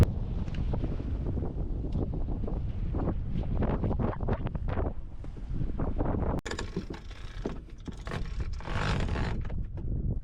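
A sailboat runs under sail with the motor off, heavy wind rushing across the microphone over water and swell, a continuous loud roar with a brief shift in texture partway through, no voices.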